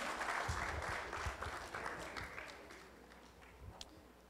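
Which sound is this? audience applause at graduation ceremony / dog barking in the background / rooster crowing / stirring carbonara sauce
audience applause at graduation ceremony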